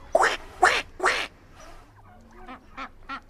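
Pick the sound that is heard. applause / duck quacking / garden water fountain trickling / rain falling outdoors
duck quacking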